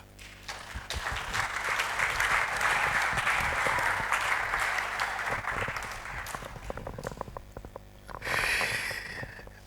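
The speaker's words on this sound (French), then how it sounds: "Est-ce qu'on peut applaudir pour" Church congregation clapping during a sermon, a full round of applause building and holding for several seconds, then thinning to scattered claps before a brief renewed burst.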